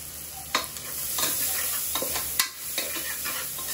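Onions frying in a pan with cinnamon, cloves, cardamom and bay leaf for vegetable egg biryani, a soft steady sizzle broken by several sharp stirring scrapes and clinks, close up.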